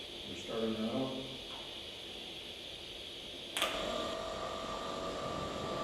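A HUAHENG TOA50 orbital open weld head machine powering on, an abrupt click followed by a steady electrical hum and whine, after a brief voice over quiet room noise.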